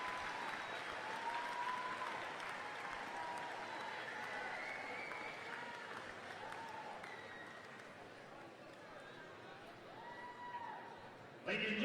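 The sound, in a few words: arena crowd applause for Hall of Fame inductees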